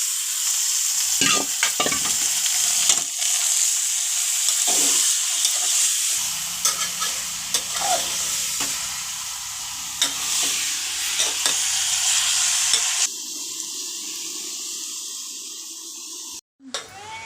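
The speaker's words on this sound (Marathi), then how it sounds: "आपण चिकन यात टाकून चांगला हलवून घ्यायचं" Chicken sizzles loudly in a hot pan with browned onions while being stirred, with scraping pulses, then the frying settles to a quieter hiss before a brief cutoff.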